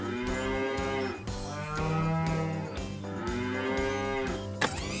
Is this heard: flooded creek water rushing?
no